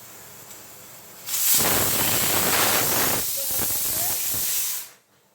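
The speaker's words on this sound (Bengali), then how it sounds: "আমি সিটি দিয়ে নেব, সেদ্ধ করে নেব প্রেসার কুকারে" A pressure cooker on the stove hisses with steam while pumpkin boils inside, the broadband rush rising suddenly, holding steady and loud for about three seconds, then cutting off.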